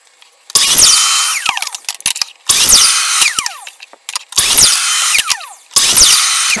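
A power saw chops wood into armoire parts in four loud, separate cutting bursts with a high whine and short pauses between cuts, close by.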